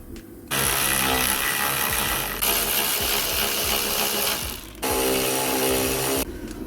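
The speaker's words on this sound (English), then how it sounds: "you need a 12mm socket ratchet and an extension like that, and literally just take it off" On a 2009-10 Toyota Aygo, a socket ratchet on an extension works 12mm bolts loose in a loud, close burst of rapid clicking and rasping that stops and restarts several times with short pauses between.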